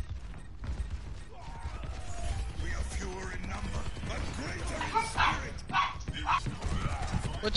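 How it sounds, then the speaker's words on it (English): Dogs bark and yip in an Overwatch game amid creaking mechanical game effects, while a player talks over the sound throughout. "What y'all barking for?"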